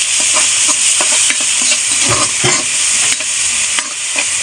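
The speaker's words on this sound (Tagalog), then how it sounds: "Igisa na natin mga kumari ang bawang." Garlic sautéing in oil in a pan, with onion to follow, as a steady loud sizzle and hiss runs throughout, broken by a few soft stirring clatters.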